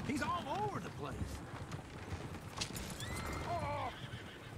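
Horses whinny loudly several times and hooves clatter in a gallop from a stagecoach scene in Red Dead Redemption 2, with a second burst of neighing near the end over a busy background of movement.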